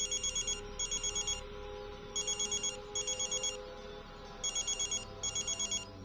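A telephone rings with a doctor calling, its electronic bell sounding in repeated short double bursts separated by brief gaps, moderately quiet over a steady low room hum.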